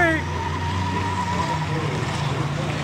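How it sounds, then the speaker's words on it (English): A small car's engine hums and revs steadily up close during an auto soccer match at Toyota Speedway, a constant mechanical drone with no talking. "Oh, Tommy, the little car's coming."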